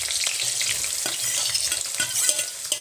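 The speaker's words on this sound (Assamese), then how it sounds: "এইখিনি মই এতিয়া প্ৰায় 2-3 মিনিট মান ভাজি লম" Dried and fresh chilies, bay leaf, onion and ginger frying in a pan for an Assamese dal, a steady close crackling sizzle with scattered stirring scrapes throughout, no voices.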